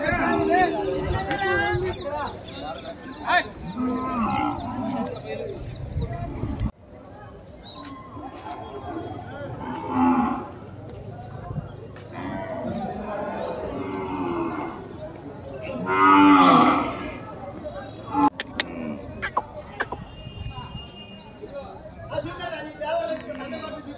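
Ongole cattle and calves at the Kodada bull market moo repeatedly, some calls long and loud, others shorter and farther off, amid crowd chatter, voices and occasional bird chirps.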